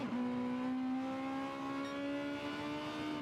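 A Honda Civic Type R race car in Gran Turismo 7 on the Sardegna circuit holds a steady, loud, buzzing engine tone whose pitch sinks gradually as it brakes, with no talking.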